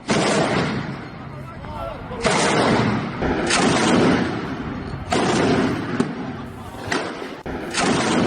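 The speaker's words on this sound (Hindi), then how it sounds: "ये बड़े हथियार एंटी एयरक्राफ्ट गन जैसे लोगों के घरों की तरफ लगातार दागी जा रही है" Repeated heavy bursts of anti-aircraft gunfire in Syria, sharp booming reports at irregular intervals over a constant loud background rumble, with no speech.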